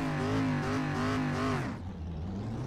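An SRX race car engine in the iRacing video game roars at high revs with rising and falling pitch, then drops to a lower rumble; no voices.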